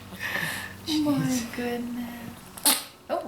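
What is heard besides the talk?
baby sneezing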